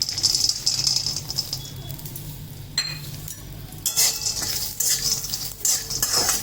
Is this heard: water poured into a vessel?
no